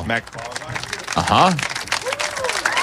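Crowd of people in Győr breaking into applause, a scattered patter of clapping mixed with close, lively voices talking over it.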